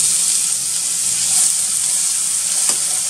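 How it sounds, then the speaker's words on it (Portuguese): Onion tossed into a hot pan with browned garlic, a loud steady close sizzle of frying throughout with a few faint stirring clinks and no voices. "Gente, agora eu vou colocar a cebola"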